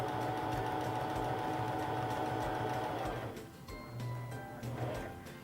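A Singer Fashion Mate 3342 sewing machine running a straight seam, a steady rapid mechanical whir and needle clatter for about three seconds before slowing and stopping, then a few brief bursts.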